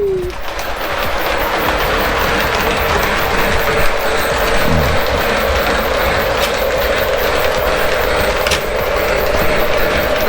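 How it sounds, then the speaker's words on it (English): A model railway train runs along a layout and through turnouts, giving a steady mechanical rattling and clicking close by that continues evenly throughout, with a faint voice at moments. "So now we're going to hit turnout number 2 and the train's going to come this way."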